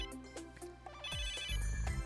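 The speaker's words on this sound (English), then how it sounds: "Oh, phone call." In the video game Megadimension Neptunia VIIR, a phone rings with a short melodic ringtone of bright repeating tones, clear and close, with no talk over it.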